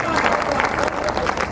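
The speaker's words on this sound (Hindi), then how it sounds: "एक बार जोरदार तालियां सम्मान में हो जाए।" Audience at a Hindi poetry gathering (kavi sammelan) breaks into a brief burst of dense, loud applause, with crowd noise throughout.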